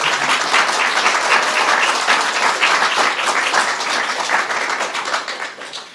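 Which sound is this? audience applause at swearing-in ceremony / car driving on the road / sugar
audience applause at swearing-in ceremony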